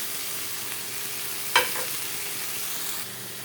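Ginger garlic paste and tomatoes frying in a pan, a steady soft sizzle throughout with one brief louder splatter as the paste hits the hot oil partway through, no voices.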